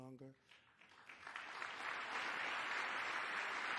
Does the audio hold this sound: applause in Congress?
yes